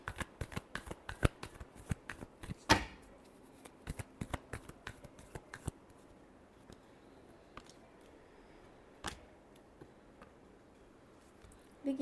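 Tarot cards are shuffled in quick bursts of crisp riffling and flicking, close and fairly soft, with scattered snaps thinning out into sparse taps and quiet pauses.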